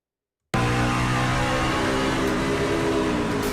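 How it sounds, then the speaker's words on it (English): An IROC race car at Daytona, recorded in-car, screams at high revs after a missed shift, a loud steady engine howl with strong harmonics that starts abruptly after a brief silence. "he went to grab a gear, didn't get to it, throttled up, and got the old dreaded money shift. Blew it up."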